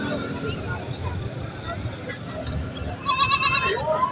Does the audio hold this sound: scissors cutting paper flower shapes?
no